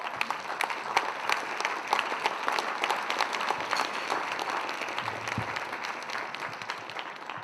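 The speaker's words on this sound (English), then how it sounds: "Let's give these folks a round of applause." An audience at an MLK Awards banquet claps continuously, a dense, moderately distant round of applause from many people that holds steady throughout.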